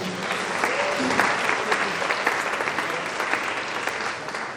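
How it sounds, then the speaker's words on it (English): An audience at a Stand Down event at UConn gives a sustained round of applause, dense steady clapping that fills the room for several seconds. "let's give a round of applause"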